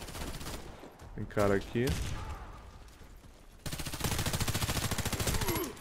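Gunfire in the video game Warface crackles in rapid bursts, with a short volley early and sustained automatic fire in the final two seconds, while someone speaks briefly over it.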